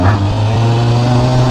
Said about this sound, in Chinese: 比想象当中前段还要暴力一点，我觉得转速上升是非常快的啊。